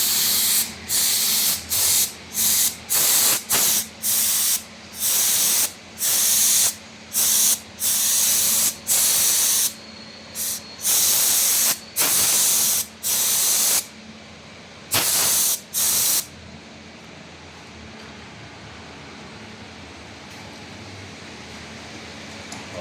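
Repeated bursts of a spray gun laying down coats of HiBond lacquer-based paint, about a dozen short loud hissing blasts of uneven length separated by brief pauses, over a steady low background hum.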